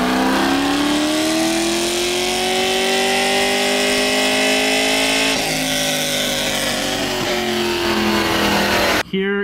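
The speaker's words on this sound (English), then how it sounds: "on the dyno, we saw my car put down over 432 horsepower to the wheels with just an intake and headers" A C6 Corvette Grand Sport with a 6.2-liter LS3 V8, intake and headers, revs hard on a dyno: a loud, sustained engine roar climbing in pitch for about nine seconds, then cutting off abruptly.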